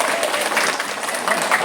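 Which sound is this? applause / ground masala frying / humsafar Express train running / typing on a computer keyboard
applause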